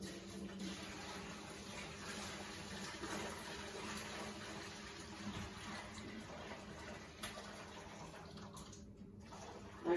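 Liquid from a pot of homemade marinara sauce being poured out into a kitchen sink, a steady rushing splash of water that runs continuously and fairly close with no talking.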